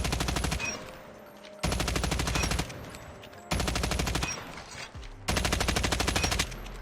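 Rapid automatic gunfire from a shooter aim-training game during slide shots, coming in four sharp full bursts of about a second each, separated by brief gaps of quieter sliding movement noise.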